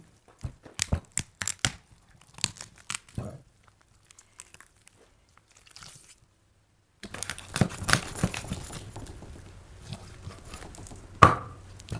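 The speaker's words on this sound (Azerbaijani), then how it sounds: "Mən bu formada doğrayıram." A knife chops raw turkey meat into pieces for an Azerbaijani buglama stew: a run of sharp, irregular cutting knocks, a short lull, then denser, busier chopping close by.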